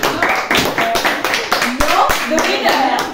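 A group applauding at a LEGO Masters-style build gathering, with dense, sustained hand clapping for about three seconds while children's voices call out over it.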